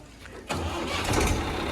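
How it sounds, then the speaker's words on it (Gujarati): A vehicle engine cranks and catches about halfway through, then settles into a steady, fairly loud running rumble. "ચાલો આપણે ગાડી ઉપડી ગઈ છે"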